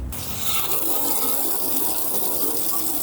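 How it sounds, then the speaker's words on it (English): A strong spray of water rinses loosened grease off car parts from a 200k-mile JDM car, a loud, continuous hissing gush close by, with no talking. "when I spray it again with the water, it'll just like fall right off"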